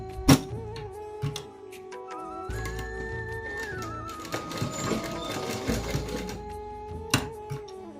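Sewing machine stitching a fabric tassel for a blouse tie, with short bursts of mechanical whirring and clacking, a sharp knock near the start and another near the end, close and moderately loud.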